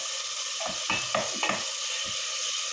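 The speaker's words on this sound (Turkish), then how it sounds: "Et kavruluyor." Meat sautéing in a pan for an eggplant dish, with a soft background sizzle broken by a few short scraping stirs near the middle.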